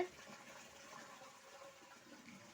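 Water being drawn, running steadily as a continuous faint wash of flow with no clear breaks.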